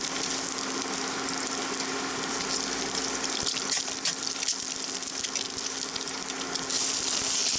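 Eggs fry in a pan for a breakfast biscuit, giving a steady, close, broadband sizzle and crackle that holds at an even level throughout, with no talking.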